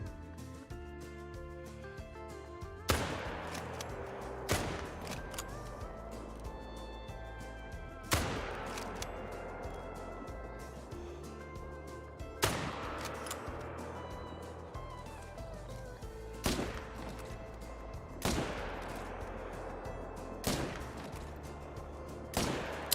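Rifle shots in a video game whitetail deer hunt: about half a dozen sharp reports spaced a few seconds apart over a steady low background hum, each trailing off in a long echo.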